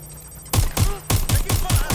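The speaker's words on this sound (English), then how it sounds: "Shots fired! Shots fired!" Gunfire in the video game Watch Dogs: Legion: after a quiet half second, a loud rapid volley of shots breaks out, with a short pause and then a second burst of steady, evenly spaced reports with heavy low thumps.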